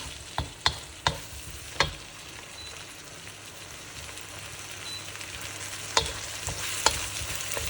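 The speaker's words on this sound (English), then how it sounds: "with these chopped tomatoes as well, we need to let them simmer and saute them." Chopped tomatoes sautéing in a pan for Punjabi-style paneer bhurji, a continuous close sizzle with a few sharp clicks of a stirring spoon against the pan.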